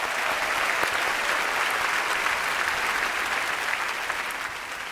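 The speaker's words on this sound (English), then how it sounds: "Round of applause for Nishta." Audience applause fills the hall at the Google I/O keynote after a live smart-eyewear demo, a steady dense clapping from a large crowd that holds for the whole stretch and eases slightly at the end.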